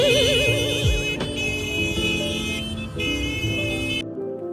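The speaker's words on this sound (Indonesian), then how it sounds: "Harus familiar juga ya dengan bunyi klakson-klakson itu." Car horns honk repeatedly in busy city traffic in Medan. Several overlapping toots and longer blasts sound close and loud over a road-noise background, then stop abruptly near the end.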